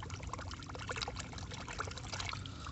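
River water pours and trickles softly as muddy toys are washed in a river, a continuous, faint, close splashing with no talk.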